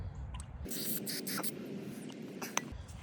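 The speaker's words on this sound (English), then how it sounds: "Spray it down this gas line." A hissing spray from an aerosol can into a gas line on a 1974 Starcraft boat motor runs for about two seconds, close by and steady, with faint handling clicks around it.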